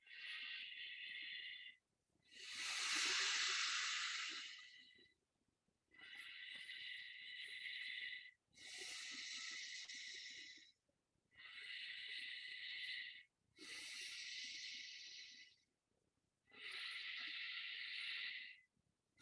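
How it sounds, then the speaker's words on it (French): Slow, deep breaths during a guided meditation, about seven long hissing inhalations and exhalations of a few seconds each, separated by short silences, close and soft with no talking. "En inspirant lentement et profondément."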